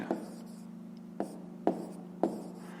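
A pen writing math on paper for a fifth-grade exercise, with a few sharp taps and short strokes spaced apart over a steady low hum, close and clear.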